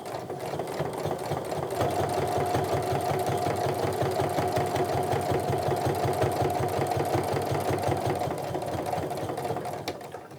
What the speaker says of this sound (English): I'm trying to stitch and follow that same guide so that I'm going straight over the same stitching line I did before